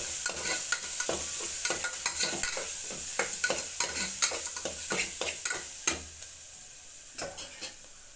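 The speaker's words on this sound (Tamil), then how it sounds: "நல்லா மிக்ஸ் பண்ணணும்" Spices for mushroom biryani sizzle steadily as they fry in a pan. A spoon scrapes and stirs them in repeated close, clattering strokes, and nobody speaks.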